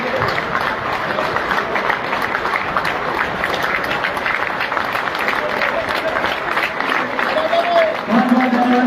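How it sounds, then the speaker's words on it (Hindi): A large crowd at a temporary workers' conference in Karnal gives the chief minister a loud standing welcome, sustained dense clapping with crowd noise, and a voice cuts in near the end. "सभी साथी जोरदार तालियों के साथ स्वागत करेंगे"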